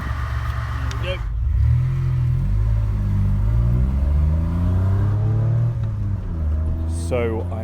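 A 1981 DeLorean DMC-12 cruises on a French motorway at about 90 mph and just over 3,000 rpm, its engine a steady low drone and road rumble heard from inside the car while someone talks over it.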